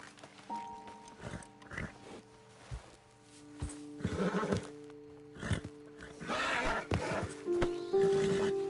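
Horses neigh and whinny in Red Dead Redemption 2 on a roadside ledge, with several moderate calls over a low ambient hum and steady background drone.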